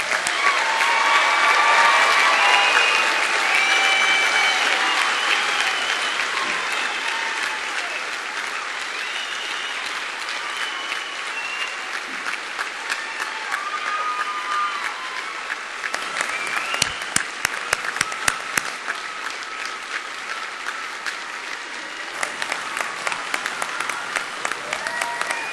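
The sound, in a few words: commencement audience applauding graduates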